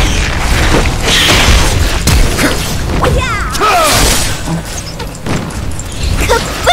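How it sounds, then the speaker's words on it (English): Explosive fireworks effects burst in the League of Legends video game, a string of loud booms, crackles and whooshing swishes that keep coming dense and close, with a steady busy din behind them. "Wanna see the fireworks?"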